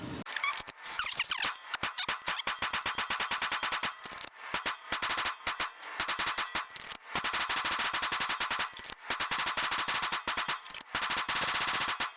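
A PSA Dagger full-size S pistol fires during a 1,000-round endurance test, sharp shots ringing out in fast strings with occasional brief gaps between volleys, loud and close throughout.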